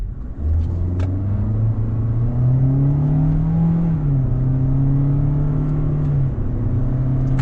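A 2026 Toyota Corolla Cross LE AWD engine downshifting, a steady close drone that steps in pitch as gears change, rising and falling smoothly over a constant road rumble with no talk.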